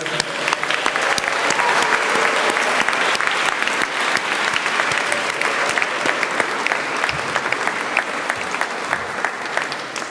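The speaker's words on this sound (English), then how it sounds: "I'd like you all, graduates, just to clap and cheer and acknowledge your parents, family, friends, loved ones that are here today." Crowd at a postgraduate graduation ceremony claps and cheers for family and friends, a dense, loud, sustained round of applause lasting the full ten seconds.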